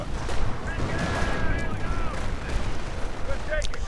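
Artillery bombardment pounding Volksgrenadier infantry in a WWII strategy game, a dense rolling wash of blasts and rumbling impacts with a Sherman platoon advancing, a commentator talking over it throughout.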